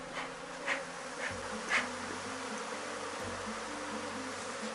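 Honey bees drone in a dense, steady buzz around an open hive while a swarm is split, with a few louder passes of individual bees close by and no talking.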